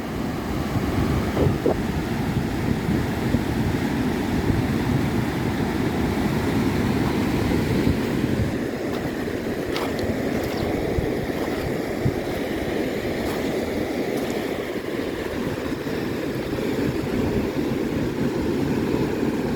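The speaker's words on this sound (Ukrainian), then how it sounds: "Волни піднімаються." Sea waves surge in at high tide on the coast of Asturias, Spain, a steady loud wash of surf mixed with heavy wind buffeting the microphone, with no voices.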